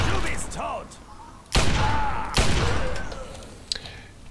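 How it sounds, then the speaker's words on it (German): Gunfire from the video game Fallout 3 breaks through two sharp, loud shots over a German-speaking voice, with one more faint report near the end. "Und ein Schuss in den Kopf."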